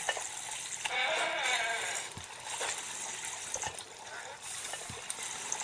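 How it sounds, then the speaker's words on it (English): Water rushes in loud and steady, gushing throughout a chaotic rock-pushing scene, with shouting voices and bleat-like cries over the flow. "Water's coming."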